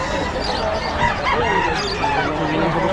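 Chickens and roosters at the crowded Bocaue pet market, a dense, loud chorus of clucking and drawn-out crowing over steady crowd noise.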